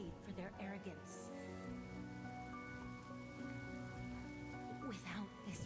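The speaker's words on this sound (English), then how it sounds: "Without this rain, the catechins would never take action" Rain in the video game Honkai Star Rail falls as a soft, continuous patter beneath sustained musical tones and speech-like game audio.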